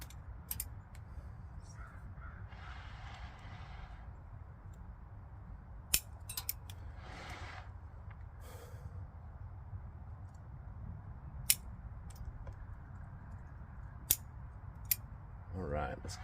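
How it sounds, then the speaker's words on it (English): Occasional sharp snips of scissors pruning dead bonsai branches during spring pruning, a handful spread out over quiet outdoor background noise, with crows cawing in the distance. "That's why I'm using these scissors, because when they're dead, they just kind of like break off"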